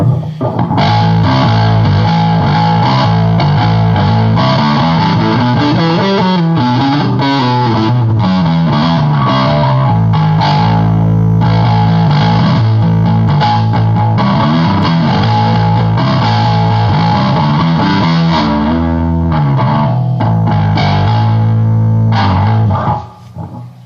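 Loud, heavily distorted bass guitar through a Metal Muff fuzz pedal, with distortion, treble, mid and bass at 12, giving a thick fuzz tone, playing sustained notes and sliding lines continuously before cutting off at the end.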